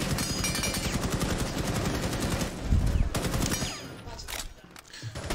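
Automatic gunfire in a competitive Rainbow Six Siege esports match on Xbox, with sustained rapid bursts for about three seconds followed by scattered shots and impacts, close and loud.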